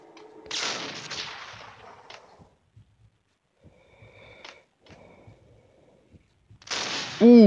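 Pump-action shotgun in the mobile game Max Payne Mobile, fired in two loud, sharp blasts several seconds apart, each with a brief decay, with quieter in-game clatter and movement between the shots.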